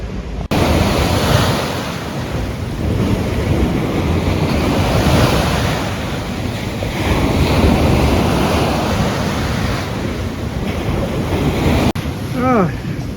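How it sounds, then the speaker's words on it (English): Sea waves surge and wash against a coastal sea wall on a sunny summer's day, a loud continuous roar with swelling crests, heavy wind buffeting the microphone and a brief squeak near the end. "Sea beating against the wall here."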